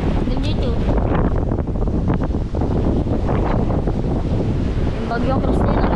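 Strong Typhoon Kristine wind roars across the open sea, buffeting the microphone in a dense, unbroken rush over a boat and the surrounding waves, loud and close throughout.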